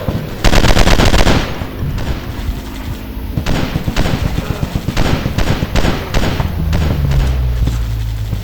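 Rapid bursts of machine gun fire in an FPS commando game rattle loud and close, with long sustained volleys broken by short pauses and a low rumble near the end.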